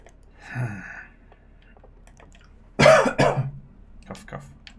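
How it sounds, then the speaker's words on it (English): A person gives two quick, close coughs in succession after a brief earlier vocal sound, with quiet room tone around them. "Cough, cough."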